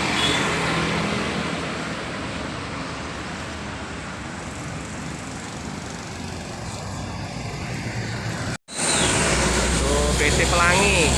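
Heavy traffic jam on a Palembang flyover crowded with MPM intercity buses from West Sumatra, a dense steady rumble of idling engines and road noise filling the scene, briefly cut out near the end before resuming.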